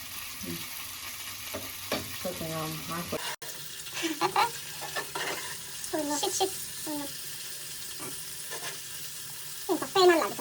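Fish frying in a pan with masala, a low steady sizzle running beneath intermittent speech, with a few soft clinks from the pan and utensils.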